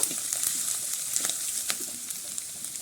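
Hot oil spatters and sizzles steadily in a pan of fish curry, a close, dense crackle with scattered sharper pops throughout.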